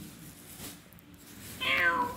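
A single short meow from a nearby cat near the end, after a stretch of soft background noise.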